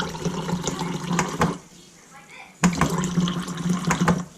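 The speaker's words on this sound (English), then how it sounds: "I'm going to let the water run a little bit" Water runs from a kitchen faucet through a Brondell Cypress water filter with a push valve, a steady splashing stream that drops out briefly and then returns, while a person talks over it.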